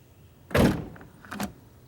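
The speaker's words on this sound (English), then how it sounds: "Now watch what happens when you shut the door." A car door swinging shut with one loud close thump, followed by a softer second knock, in a quiet vehicle during a parasitic battery load test.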